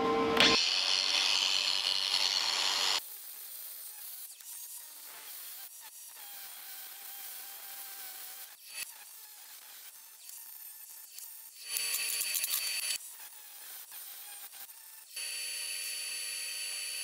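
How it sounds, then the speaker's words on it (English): An angle grinder trims protruding metal bar ends on a welded rocket stove grill, with bursts of high whining hiss cutting in and out between quieter stretches of spin-down and handling. "Some of these I'm gonna have to get with a grinder."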